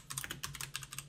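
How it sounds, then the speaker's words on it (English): Keys on a computer keyboard are pressed in quick, steady succession, giving close, crisp clacking taps under a faint low hum. "let's get started by hitting Control N on the keyboard to bring up our new image dialog box"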